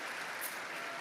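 An audience at an environmental excellence celebration applauds Megan Waters in a brief, dense wash of clapping.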